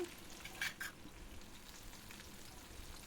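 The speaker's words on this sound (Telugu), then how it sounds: "పెసర వడియాలు అయితే వేసి ఈ విధంగా అయితే వేయించుకోండి" Moong dal vadiyalu frying in hot oil, a steady broadband sizzle running through the whole stretch with a couple of brief brighter crackles near the start.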